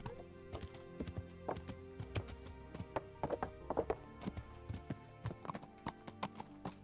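Horse hooves clip-clop in the medieval video game Kingdom Come: Deliverance, an uneven run of sharp close taps with a soft game ambience underneath.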